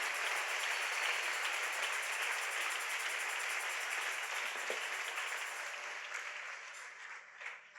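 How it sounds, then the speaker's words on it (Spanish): A church congregation claps together during a sermon, a steady, dense wash of applause that carries on evenly and then thins out and fades toward the end. "ahí denle un aplauso, sí, déselo"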